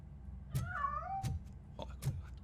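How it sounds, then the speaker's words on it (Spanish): A cat meows once in the RoboCop: Rogue City video game, a clear rising-and-falling cry set over low game ambience, with faint thuds before and after. "Joder, con el gato."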